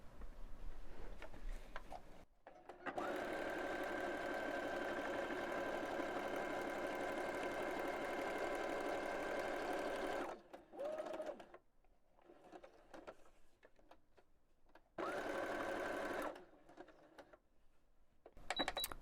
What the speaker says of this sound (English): let's grab our sewing machine